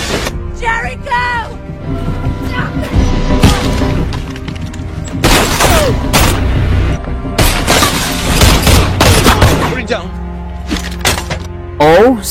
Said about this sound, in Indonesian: Oh, sayang sekali, amunisi pistolnya si Jericho telah habis